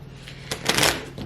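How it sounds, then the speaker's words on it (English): A deck of cards being shuffled by hand: a brief, close, crisp riffle of flicking cards that swells and then settles, with no talking. "let me give it one more shuffle"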